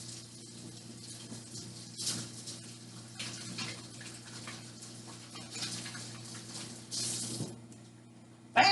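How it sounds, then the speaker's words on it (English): Tap water runs into a kitchen sink during handwashing, a continuous close splashing with a few stronger gushes and a final clink at the end. "Let me wash my hands here."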